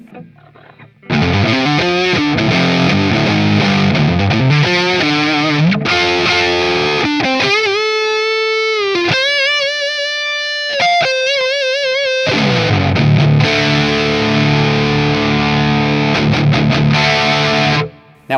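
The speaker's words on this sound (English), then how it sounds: "Let's try the same thing with the neck pickup, a little riffing." A Schecter Solo II Apocalypse electric guitar on its neck pickup plays loud distorted riffs, chugging chords giving way to sustained single notes and bends, then heavy riffing again, with no talking.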